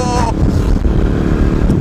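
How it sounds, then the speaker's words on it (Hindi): A Royal Enfield motorcycle ridden on the road at around 75 to 90 km/h gives a loud, continuous low rumble mixed with rushing wind noise, heard from the rider's position, steady throughout. "चल रही है अपनी बाइक।"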